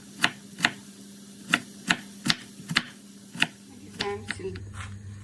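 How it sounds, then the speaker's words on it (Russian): A knife chops carrot into cubes on a board, giving about eight sharp, evenly spaced knocks close by, followed by a few quicker, softer taps and a scraping shuffle at the end. "Измельчаем морковь кубиком."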